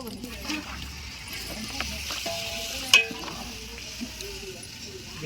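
Tomatoes dropped into a hot pan during home cooking of a vegetable dish, giving a steady soft sizzle and frying hiss with a brief louder clatter near the middle, while people talk nearby.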